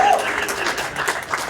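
A comedy club audience claps and applauds in a short, dense burst of mixed hand claps, with crowd voices underneath.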